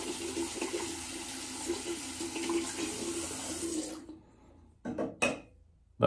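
A tap runs steadily to rinse a King C Gillette razor, a close continuous water rush that stops abruptly, followed by a few clinks and splashes.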